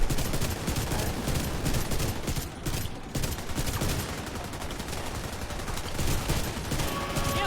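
Heavy, continuous gunfire as players shoot enemies during a video game raid boss fight: overlapping rapid shots and bursts, loud and dense, with a brief dip in the middle before the barrage resumes.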